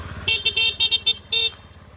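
A Yamaha Jog SA55 fuel-injected scooter horn beeps in several short bursts, then one longer honk, loud and close, with an idling engine underneath.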